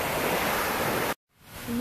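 Sea waves rolling onto a beach in Boracay, a loud, close wash of surf that cuts out abruptly, then returns softly with a faint tone.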